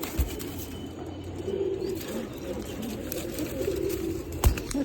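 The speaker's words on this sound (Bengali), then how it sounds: "এই যে কবুতরটা মাত্র আসছে।" Low, soft cooing from a thin racing pigeon just back from a 31 km race repeats in short phrases over a steady background hum, with a couple of brief thumps; no one talks.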